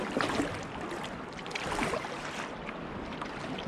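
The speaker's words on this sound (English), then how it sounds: "I'll paddle my way out" A Perception Triumph 13 kayak paddled out to sea off Catterline in calm water, soft splashing paddle strokes and water lapping against the hull close by, with light wind on the microphone and no talk.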